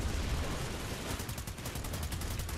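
Dense, steady gunfire in the shooter game Planetside 2, a continuous stream of rapid shots blending into a harsh wash of noise, fairly quiet and unbroken throughout.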